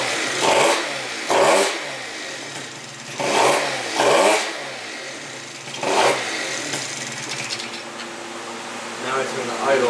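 A 70cc Yamaha Zuma scooter with a Polini carb revs in five short, loud bursts, each dropping back to a buzzing idle that carries on through the second half.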